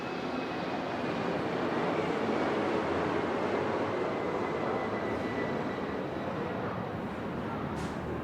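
Aircraft engine noise from a passing airplane, a steady broad roar that holds loud and even throughout without clear rise or fade, no voices present.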